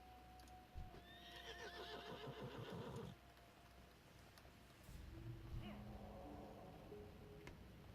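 Horse neighing in World of Warcraft, with a loud whinny followed by a second softer one, heard over game music and clopping hooves.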